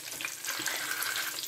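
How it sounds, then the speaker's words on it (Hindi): Macaroni frying gently in oil over low heat for a crispy kurkure-style snack, giving a steady, close bubbling sizzle with soft crackles and no voices. "इसको हल्की आंच पे आपने फ्राई करना है।"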